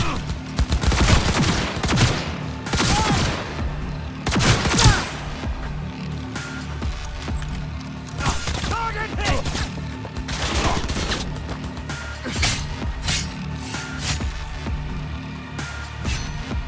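Gunfire in a Cyberpunk 2077 fight: dense bursts of rapid shots and cracking volleys, loud and close, with heavy clusters at the start and scattered bursts continuing throughout.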